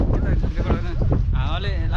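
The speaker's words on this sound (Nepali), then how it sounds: "हावाले लास्टै ल्याङ गऱ्यो यार" Strong wind buffets the microphone on a cold, exposed hilltop at Lakuri Bhanjyang, Lalitpur, during snowfall. It roars in close, continuous gusts, and a voice speaks through it.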